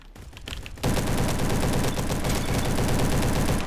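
An SM-03 submachine gun in Roblox Bad Business opens up after a brief quieter lead-in, then rattles off a loud, sustained burst of rapid automatic fire that runs to the end.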